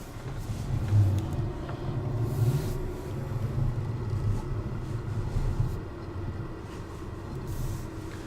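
A tractor engine idles and runs in Farming Simulator 17, a steady low mechanical rumble with slight swells in revs, moderately loud and continuous with no talk over it.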